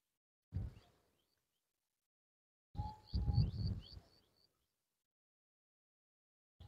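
Sparrows in a millet field give a few faint, high chirps among short rustling bursts, with near silence between them.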